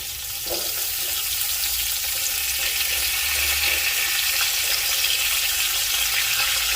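Sliced potatoes frying in a pan for a Marathi stuffed brinjal bharit dish, a steady loud sizzle and crackle of hot oil running continuously without a break.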